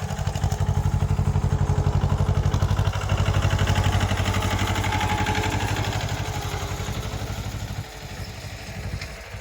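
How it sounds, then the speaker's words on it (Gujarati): A tractor engine runs steadily and loud in a papaya field while fertilizer (DAP, potash, sulphate) is tilled into the soil, a rapid, even chugging throb that eases slightly in level toward the end, with no talk over it. "અને પાછળ ટ્રેક્ટર પણ અમારું જોઈ શકો છો"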